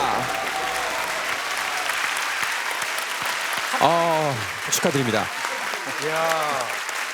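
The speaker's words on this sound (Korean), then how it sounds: "큰 박수 부탁드리겠습니다" A Korean TV studio audience gives a round of applause on a collection-showcase variety show, steady clapping running throughout while a host speaks over it in short phrases.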